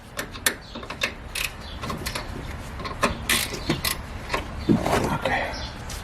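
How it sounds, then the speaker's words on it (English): A 13mm ratcheting wrench clicks in quick, uneven strokes while loosening nuts on the rear shock of a 2007 Ford Explorer Sport Trac, close up with clanks of metal in a garage. "now take your ratcheting wrench, 13mm, and start"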